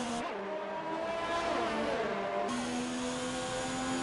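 An F1 race car engine in a Formula 1 video game at the Italian Grand Prix circuit, a loud steady high-pitched whine that rises, then drops sharply as it shifts into fourth gear and climbs again.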